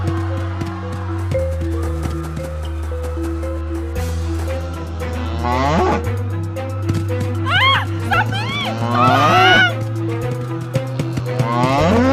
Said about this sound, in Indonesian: Awas, ada sapi ngamuk.